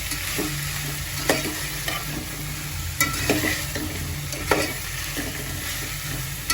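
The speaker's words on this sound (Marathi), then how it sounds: "वटाणा त्याला चांगलं फ्राय करून देते" Green peas and tomato frying in a pan for pulao masala while being stirred, a steady sizzle with repeated scraping stirs at close range and no talk.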